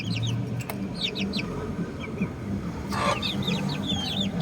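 Month-old upgraded native chicks peep and chirp in short, repeated bursts over a steady low background hum, heard fairly close and moderately loud.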